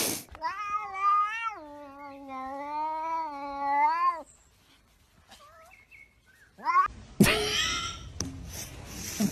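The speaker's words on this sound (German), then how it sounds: "Einfach eine schwarze Katze." A black cat gives a long, drawn-out meow lasting several seconds, close and clear, followed by a few shorter, fainter meows and then some brief rustling noise.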